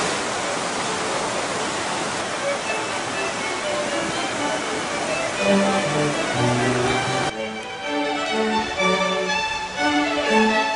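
Steady rushing water fills the scene, a continuous broadband flow like a river or cascade, with faint voices or tones in the background.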